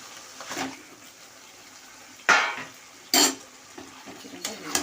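Chicken pieces dropped into a pan of cooked-down spice paste and oil, giving a couple of sharp sizzling bursts with clatter of a utensil against the pot between quieter stretches, close by and with no talking.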